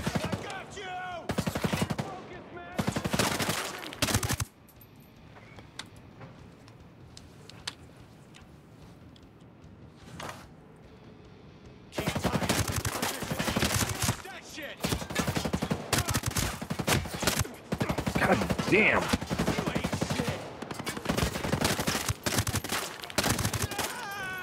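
Gunfire in the video game Ghost Recon Breakpoint comes in loud bursts of rapid automatic shots, with a quieter lull in the middle before heavy sustained fire resumes.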